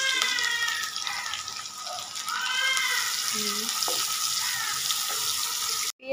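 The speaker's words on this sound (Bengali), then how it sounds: "এখন আমি এই যে পেঁয়াজ আর মরিচ কেটে নিয়েছি এগুলো ভাজবো। আমার তেল গরম হয়ে গেছে।" Chopped onions and chilies sizzle steadily in hot oil in a pan, a constant bright hiss that carries through the whole stretch, with occasional clinks from stirring and a brief dip near the end.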